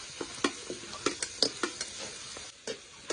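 Desi chicken fries with garlic and spices in a pan, with a soft sizzle under quick, regular stirring strokes that scrape and patter about every quarter second. No voices.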